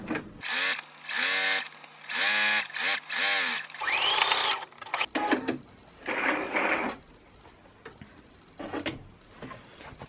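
A sewing machine running a straight stitch along a men's shirt being altered, bursts of rapid whirring needle chatter in short start-stop runs, followed by quieter handling clicks and rustles.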